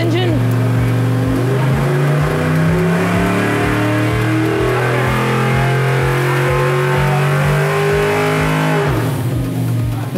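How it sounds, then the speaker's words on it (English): A loud engine on a dynamometer roars steadily at full throttle under full load, its pitch climbing slowly before dropping off near the end, with a rapid pulsing exhaust throughout. "we're wide open throttle, full load, hit start on the test"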